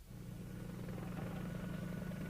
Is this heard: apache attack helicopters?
yes